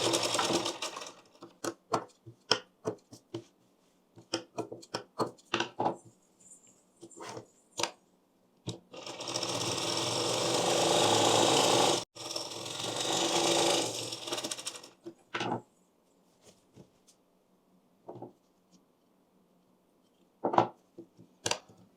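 A sewing machine stitches a four-dot blouse in short, quick bursts, then runs steadily for several seconds before returning to brief stop-start stitching, close and clear with no talking.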